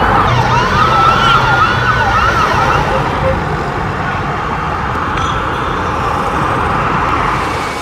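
Emergency sirens wail at a fire scene in central Israel as responders arrive, loud and wavering over a rumbling background of traffic and crowd noise. The sirens fade after a few seconds into general street din.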